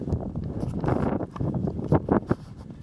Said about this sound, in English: Flashing just blowing in the wind.